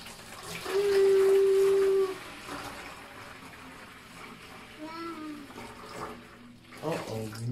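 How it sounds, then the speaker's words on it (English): Water is tipped into a pictus gecko egg incubator, a short splashing pour early on followed by faint trickling, with a child and an adult speaking softly nearby. "now basically we're gonna dump some water in it"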